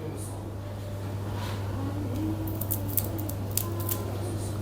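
A few sharp metallic snips and clicks of a Siglo cigar cutter cutting a cigar sound over a steady low hum, close by, with faint voices murmuring in the background, in a Tokyo cigar lounge.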